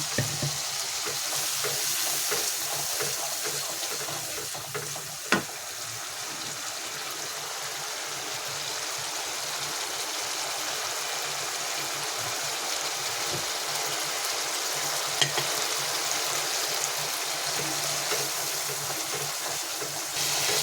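A little water hits masala gravy frying in oil, and a loud steady hiss and bubbling sizzle carries on throughout, with a couple of brief clicks.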